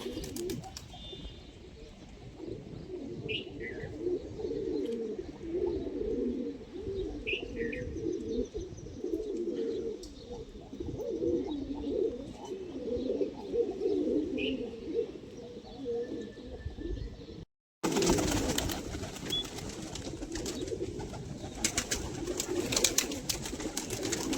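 Pigeons at a friend's house coo steadily in soft, low repeated phrases, with a few higher chirps from other birds. The sound is close and moderate and ends in a brief gap followed by a burst of noisier handling sound.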